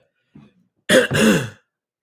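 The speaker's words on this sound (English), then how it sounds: "had to clear my throat." After a soft brief sound, someone clears their throat loudly and close by, a gruff two-part rasp that stops abruptly into silence.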